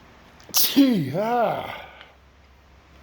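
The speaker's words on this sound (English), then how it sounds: "I am sneezing." A single loud sneeze from dust, with a sharp burst and a wavering vocal tail, close by, followed by quiet.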